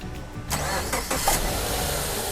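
A car engine cranks and catches with help from a 10000mAh 500A jump starter power bank, a brief starter whir followed by the engine settling into a steady, close idle.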